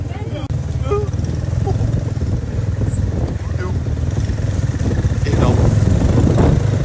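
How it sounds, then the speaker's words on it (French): A motorcycle rumbles along a street, its engine droning steadily close by and swelling louder toward the end, with faint background voices. "Moto de la rue, mon pote."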